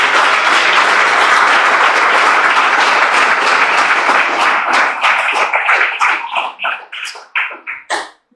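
A church congregation claps as an offering to God, loud sustained applause that thins over several seconds into a few scattered, separate claps before stopping.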